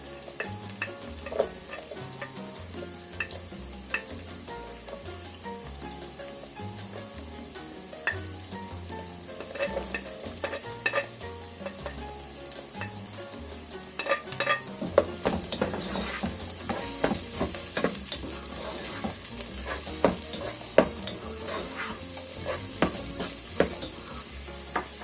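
Celery and other vegetables sautéing in a pan for spinach callaloo with crabs, a continuous sizzle with frequent stirring clatter and scraping that grows busier partway through, under faint background music.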